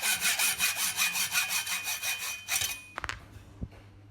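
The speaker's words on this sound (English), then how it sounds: "Now I need to cut a 5 mm steel rod to make the axis." A 5 mm steel rod being hand-sawn, with rhythmic back-and-forth strokes at an even pace for about three seconds, then a few clinks and knocks as the sawing stops.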